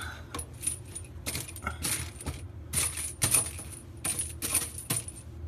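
Small brass cartridge cases with stainless pins clink and jingle in bright, scattered bursts as they drop into a clothes dryer, several quick clusters of metallic rattling close by.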